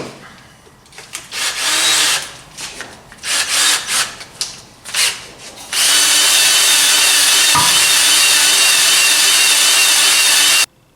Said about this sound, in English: I will polish or clean up the inside of the bores here on all 4 of these